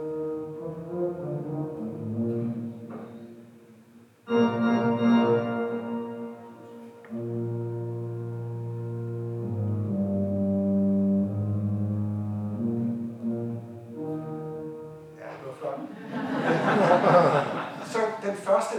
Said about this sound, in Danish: Det er nemlig meget nemmere at vise på et orgel. Man spiller med fødderne.